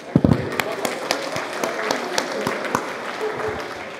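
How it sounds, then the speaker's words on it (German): A convention stage audience at Berlin Con 2024 applauds Kickstarter superbackers with scattered, uneven clapping, a few loud close claps at the start, then lighter, sparser applause with a voice faintly underneath. "großen Applaus an euch"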